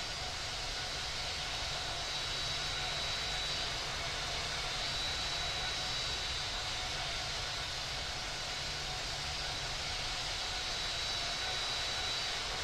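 Steady, loud jet engine roar from an airliner taxiing to the runway in the Infinite Flight simulator, a continuous broadband whine that holds evenly throughout, with no voices.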